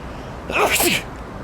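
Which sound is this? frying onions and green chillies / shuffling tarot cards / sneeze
sneeze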